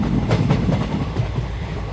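A train rumbles steadily along the tracks with a rhythmic clickety-clack, heard loud and close as if from inside the carriage.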